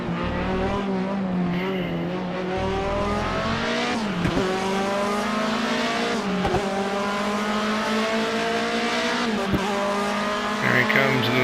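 A BMW 2002 StanceWorks Edition race car at Donington GP in Project CARS, its engine droning loud and steady through gear changes while tires squeal repeatedly in corners.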